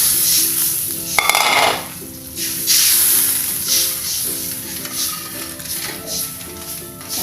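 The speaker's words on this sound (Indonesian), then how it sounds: "aduk-aduk dulu ya biar bumbunya merata sama kuahnya" A spoon swirls spices through coconut milk in a pot, producing a bubbling, hissing simmer with irregular surges of stirring and a sharp clink early on.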